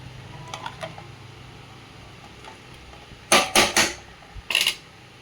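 Fish dropped into a cooking pan gives a few sharp clattering and splashing bursts near the end, after quiet low background hum and faint earlier taps.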